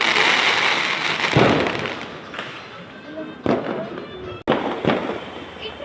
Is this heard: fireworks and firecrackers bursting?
yes